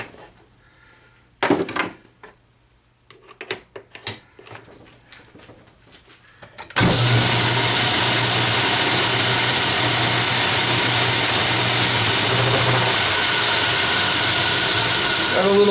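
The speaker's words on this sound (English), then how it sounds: "I'm going to take and cut a bevel on it" A metal lathe powers up and runs steadily while cutting a bevel for weld prep, a loud continuous machining whir with a low hum after several scattered clanks and handling knocks.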